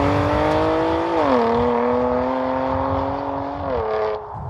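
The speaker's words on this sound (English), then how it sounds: "it completely transforms the way this car sounds" A BMW M2 Competition fitted with an aftermarket exhaust revs loudly and steadily, its engine note rising and stepping down in pitch twice, close up and alone with no talk.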